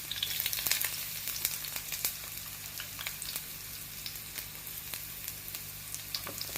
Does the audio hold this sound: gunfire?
no